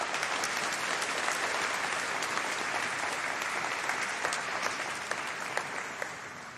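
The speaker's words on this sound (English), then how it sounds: "join me in a round of applause to thank the people here in front of me" A large graduation ceremony audience breaks into steady, continuous applause, a broad wash of many hands clapping that holds evenly and eases slightly toward the end.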